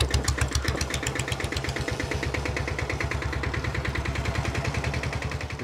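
A unique diesel-powered motorcycle engine runs steadily close by, its rapid even thumping reminiscent of an old village tractor, loud and continuous with no talk.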